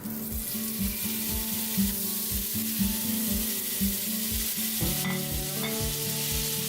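A quarter stick of butter melts in a pan on a stove, a steady close sizzle running throughout beneath a regular low rhythmic thumping, with no voices.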